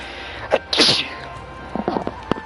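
A single sharp, close human sneeze with a quick inhale before it, followed by faint soft clicks and rustles in a quiet room.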